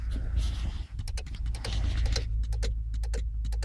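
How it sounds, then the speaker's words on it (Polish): Sharp mechanical clicks repeat in an uneven series over a low engine-like hum, close by, like a Renault Laguna II's central locking actuators ticking. "I słychać cykanie."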